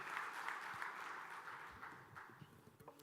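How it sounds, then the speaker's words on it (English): Audience applause after a panel session at a blockchain congress, a steady fairly faint patter of many hands that thins out toward the end. "Let's give a big round of applause to girls."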